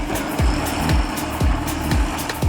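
A tractor pulls a compost spreader across a farm field, its engine droning steadily while repeated rhythmic mechanical thumps sweep downward roughly every half second, loud and close, with no talk.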